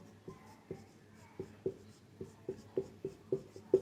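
Chalk or marker strokes on a classroom board during a physics lesson, a series of sharp taps and short scratches repeating every half second or so, close and fairly faint, with no talking.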